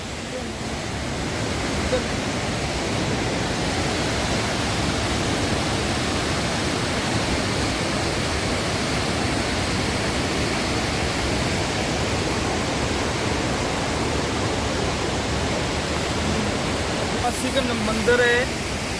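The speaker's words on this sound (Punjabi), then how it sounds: "ਇਹਦੇ ਨਾਲ ਝਰਨਾ ਹੈ" A waterfall beside the hot spring at the Shiv temple on the Tibet road gives off a constant, dense roar of falling water, heard close and unbroken, with a few faint voices near the end.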